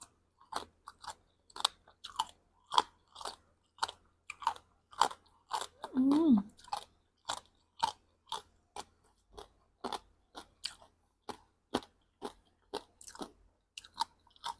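Crisp, close crunching bites and chewing of a spicy cucumber salad, repeated in a steady rhythm through the whole stretch, with a brief murmured voice near the middle.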